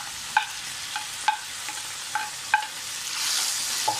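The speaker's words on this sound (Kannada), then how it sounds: "ಆನಿಯನ್ಸನ್ನು ಹಾಕ್ಕೊಂಡು ಫ್ರೈ ಮಾಡ್ಕೊಡ್ತೀನಿ" Onions frying in a pan with whole spices and leaves sizzle steadily while a spatula knocks and scrapes the pan in a regular stirring rhythm, the frying swelling louder near the end, no speech.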